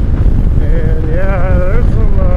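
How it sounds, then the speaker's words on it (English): Loud, steady wind roar buffeting an LS2 OF569 track helmet while riding at 70 mph, broadband rushing noise filling the whole clip with faint tonal whistles over it. "there's some good wind noise going on."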